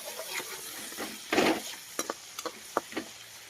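Curry leaves dropped into a hot tempering of oil and spices for a dal dish, giving a sudden crackling sizzle that bursts loud for a moment, then settles into scattered pops and a steady hiss.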